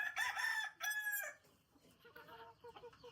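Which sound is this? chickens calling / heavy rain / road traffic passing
chickens calling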